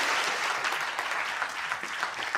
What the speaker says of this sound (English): a big round of applause for Dora